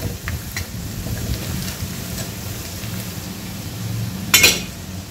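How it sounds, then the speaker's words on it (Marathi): Chili powder, flour, turmeric, coriander powder and goda masala fry in hot oil for a drumstick and potato curry, giving a soft, steady sizzle with a brief louder scrape of stirring near the end. "याला 2 मिनिटं होऊ द्यायचं आहे या सुक्या मसाल्याला"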